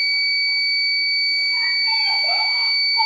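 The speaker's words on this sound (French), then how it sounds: "lorsque la température va augmenter, le buzzer va sonner." An electronic buzzer alarm, triggered by rising temperature in a thermistor-controlled fan circuit, sounds continuously with a steady, piercing high tone over faint background noise.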